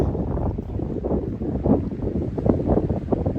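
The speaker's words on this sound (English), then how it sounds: "It's a bit windy." Wind on Roan Mountain at about 5,000 feet along the Appalachian Trail, a steady moderate rushing that buffets the microphone with slight gusts throughout, no voices.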